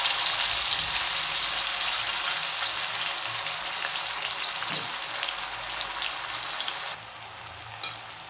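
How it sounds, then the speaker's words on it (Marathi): Ground samosa filling paste fries in hot oil, a loud, steady sizzle that holds for about seven seconds, then drops lower with a brief stir near the end. "तेलात परतून घ्यायचं"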